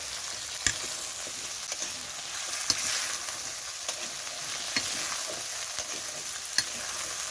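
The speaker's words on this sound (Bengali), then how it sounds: "আলু আর পটল দিয়ে দিচ্ছি দিয়ে দেওয়ার একটু নাড়াচাড়া করবো" Diced potatoes and pointed gourd sizzle steadily in a pan while being stir-fried, with a constant close frying hiss and occasional light knocks and scrapes of the spatula.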